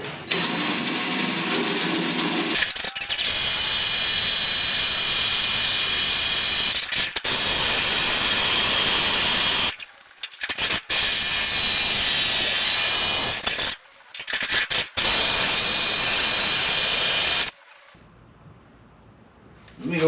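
A power drill bores into metal for a rat rod motor mount, a loud continuous whine in long bursts broken by brief stops, close by.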